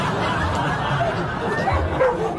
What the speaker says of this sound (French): Polo, Appelez la meute.